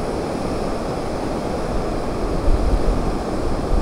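Rushing swollen river water after a sudden rise, flowing from the Patayabas, Lukban and Mauban direction, a steady broadband roar that holds loud and continuous throughout with no voices.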